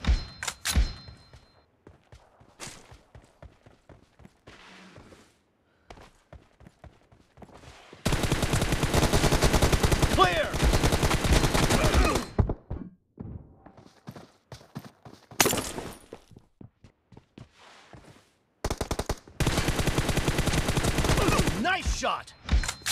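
Rapid automatic gunfire in a team deathmatch video game comes in two long, dense, loud bursts, with scattered single shots and short clicks in the quieter gaps between them.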